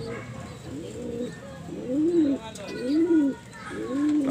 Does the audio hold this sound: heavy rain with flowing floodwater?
no